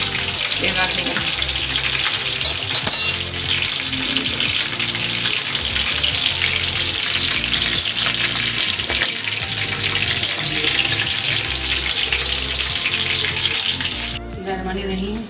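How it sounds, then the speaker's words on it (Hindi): Fish coated in gram flour masala fries in oil over low heat, giving a steady, dense, close sizzle that runs unbroken throughout, with faint clinks partway and near the end. "हल्की आंच पे फ्राई करनी है, तेल आगे करना"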